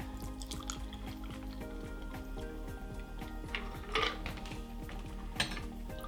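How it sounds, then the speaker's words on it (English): A pomegranate fizz cocktail pours and trickles from a mason jar with light glassy clinks, moderately quiet, over soft steady background music. "so we're gonna pour in the cocktail like this."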